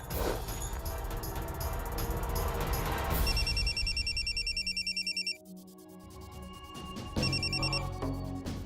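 A telephone rings in an indoor scene, with bright repeated electronic trill bursts in several rounds separated by short pauses, fairly faint and with no talking over it.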